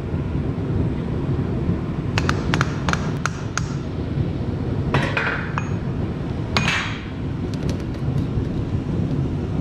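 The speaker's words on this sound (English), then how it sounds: "I'm gonna hammer out the shaft." Sharp metallic hammer blows ring out in quick clusters, a few strikes at a time, hammering a shaft out of a jet aerator, over a loud constant machine-like rumble.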